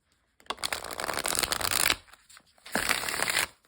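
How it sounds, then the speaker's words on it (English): A thick linen cardstock tarot deck is riffle shuffled twice, each a loud, close burst of rapid fluttering card snaps lasting over a second, separated by a short pause. "I am determined to make this deck riffle shuffleable"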